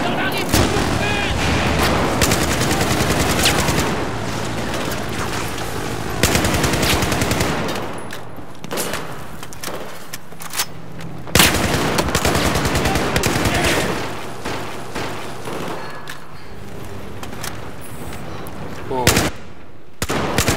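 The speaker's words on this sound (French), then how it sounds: "Joli tir, Breaker" Dense bursts of automatic weapon fire and heavy shots rattle through a Battlefield 4 battle in Shanghai, loud and nearly continuous with brief pauses, while players talk faintly underneath.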